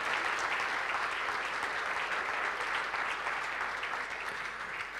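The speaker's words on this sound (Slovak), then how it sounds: "Môžeme tu predznačiť nejaký potlesk a aj ho počujeme" Enthusiastic audience applause at an athletics awards ceremony: a dense, continuous wash of clapping that stays steady and loud for the whole stretch, fading only slightly at the end, with no voices over it.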